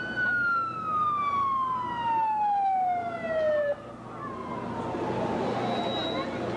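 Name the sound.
warning siren before hotel demolition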